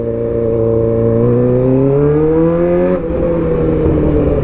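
Suzuki GSX600R 2008 K8 motorcycle engine accelerating hard through a gear, its loud steady tone climbing in pitch, briefly dropping at a shift, then pulling again up close.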